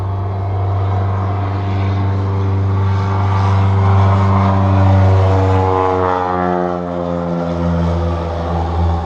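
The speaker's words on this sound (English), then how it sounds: "Always an airplane. Always an airplane." A float plane drones loudly overhead, its steady propeller engine hum swelling and then easing as it passes, with no voices.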